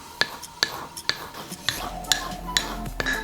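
A utensil stirs homemade powder toothpaste made with baking soda in a bowl, giving sharp, regular clinks against the bowl about every half second, close up with soft breathy scraping in between.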